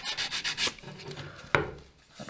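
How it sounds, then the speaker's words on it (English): Sandpaper rubs across the wood of a small rolltop desk in several quick rhythmic strokes, a short pause, then one sharp scrape, close and fairly loud. "Now we could just hit it with a little bit of sandpaper to"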